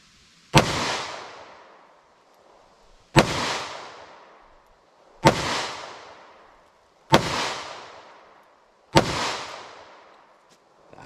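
Five loud, sharp gunshots ring out at a steady, unhurried pace from a 2-inch-barrel revolver firing .38 Special +P handloads with Hornady bullets, each crack decaying briefly before silence.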